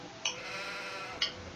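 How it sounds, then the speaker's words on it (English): Sheep in a farming video game bleat twice, short nasal calls about a second apart over a steady low background hum, clear and near with no speech. "How's our sheep doing?"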